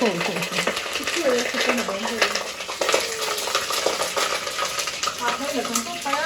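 Garlic frying in hot oil as a tempering for kadhi, giving a steady loud sizzle with scraping stirs of a ladle, while voices talk over it.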